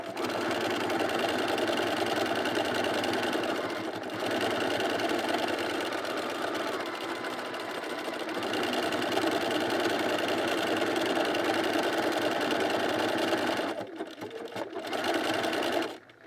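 A Bernina sewing machine runs in a fast, steady mechanical whir of stitching, close and loud, with brief pauses near four seconds and fourteen seconds before it stops at the end.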